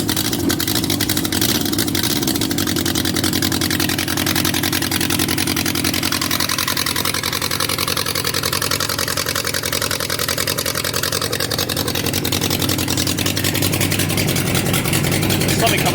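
An abandoned Yamaha XJ 900F motorcycle engine runs loudly and continuously, a close, rough, droning roar with a steady low rumble and no pauses for the full length.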